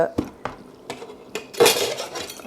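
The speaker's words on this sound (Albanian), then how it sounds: "Tash i mundohem të hap tenxheren" Metal clatters as the lid is worked off a cooking pot: a few separate clinks, then a louder scraping rattle, all close and fairly loud.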